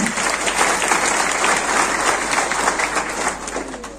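A meeting audience of readers in Buldhana breaks into sustained, dense applause, loud and steady for several seconds with a slight fade at the end and no talking over it.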